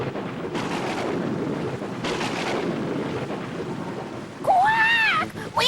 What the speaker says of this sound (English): It started to pour with rain, and there was thunder and lightning everywhere.